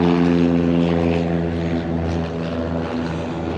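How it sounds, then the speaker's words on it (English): A propeller plane takes off at an air show, its engine droning loud and steady with a strong harmonic hum, close by and gradually easing in level, with no voices. "There's another plane taking off."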